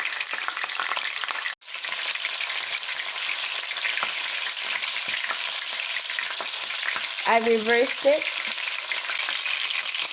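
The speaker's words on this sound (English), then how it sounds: "Frying the meat is just the first step of the cooking process." Meat sizzles and spits steadily in hot oil beneath a splatter screen, a dense continuous crackle with a brief dropout early on and a short spoken phrase near the end.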